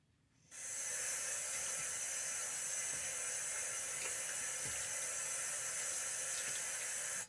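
Water runs steadily from a sink tap as a shaving routine gets underway, a continuous even hiss starting after a brief quiet moment and holding constant and close throughout.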